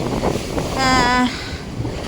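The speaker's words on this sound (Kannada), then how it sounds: "ತುಂಬ ಗಾಳಿ ಇದೆ ಡೋರ್ ತೆಗಿಶೀತಲ್ಲ ತುಂಬ ಗಾಳಿ ಇದೆ" Strong wind roars and buffets the microphone on a cruise ship deck, with a brief tonal whistle or horn rising in the middle.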